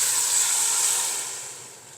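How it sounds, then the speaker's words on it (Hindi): Water pouring into a cooking pot holding three spoons of cooking oil, readied for boiling yakhni for Kabuli pulao; a steady close hissing rush that fades toward the end, with no talking. "पानी डालेंगे इसमें"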